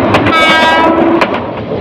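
A Bolaka Commuter train between Mymensingh and Dhaka runs fast round a curve, a loud steady rumble of wheels with a short blast of the horn, heard from on board.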